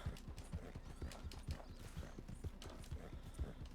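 Horse galloping in the video game Red Dead Redemption 2, a steady rapid clip-clop of hooves throughout, fairly close, with an occasional whinny and no talk over it.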